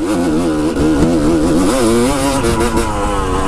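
A motorcycle fitted with a Lectron carburetor revs hard while being ridden, a loud close engine note rising and falling through repeated throttle blips.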